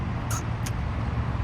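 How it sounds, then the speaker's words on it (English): Freeway traffic hums nearby as a steady low roar of passing cars, with a couple of brief faint high hisses and no speech. "you don't hear all of the cars zooming by"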